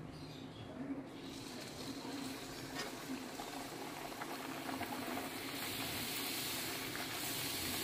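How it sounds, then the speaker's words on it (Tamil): Spinach poori dropped into hot oil for frying, a steady soft hiss and bubbling sizzle that keeps going and swells slightly toward the end. "இது பாருங்கள், எண்ணெய் நல்லா சூடாயிடுச்சு. இப்போ நம்ம கையில் இருக்கிற பூரியை வந்து நான் போட போகிறேன்."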